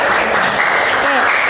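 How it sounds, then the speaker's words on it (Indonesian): High school students applauding in a classroom, a dense burst of close clapping filling the moment, with a voice briefly heard over it. "Tepuk tangan dulu."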